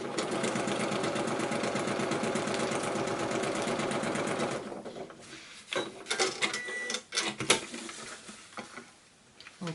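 A sewing machine runs steadily while stitching fabric strips onto tape, then stops, giving way to faint handling clicks and rustling.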